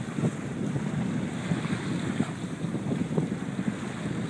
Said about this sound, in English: Sailing into the sunset.